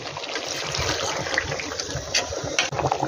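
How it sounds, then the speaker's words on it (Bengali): Water poured into a pot of beef and potato curry, a steady splashing trickle with a few brighter gushes, close and fairly loud with no talk. "আলুগুলো দিয়ে এখন ঢেকে দেবো এখন জল দিয়ে দেবো"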